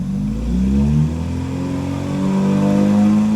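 A car engine running on a garage-built standalone ECU with a custom trigger disc revs steadily and close, its tone rising and falling gently as the throttle is eased, with no talking.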